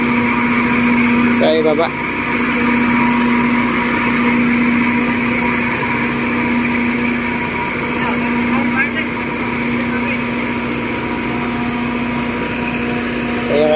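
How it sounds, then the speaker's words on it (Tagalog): A welding generator runs steadily at a bridge construction site in Meycauayan, Bulacan, giving a loud constant engine drone with a strong steady hum throughout, while someone talks over it. "So, mandar na yung welding generator dito sa ano, no?"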